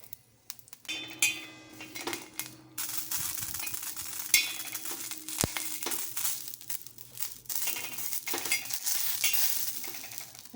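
Green chillies frying in a pan give a steady close sizzle, with scraping and stirring clatter from the pan throughout and no speech.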